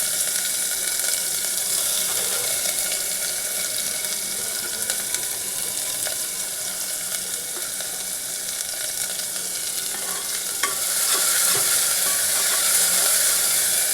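Onions frying in a pan for mung dal give off a steady, soft crackling sizzle, a continuous hiss with small pops running throughout and growing slightly brighter near the end.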